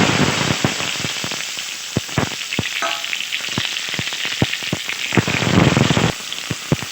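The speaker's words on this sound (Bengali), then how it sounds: "ওই তেলে দিয়ে দিচ্ছি বেগুন" Eggplant sizzling as it fries in hot oil left from frying fish, a steady loud crackle with sharp pops and occasional stirring knocks, no voices.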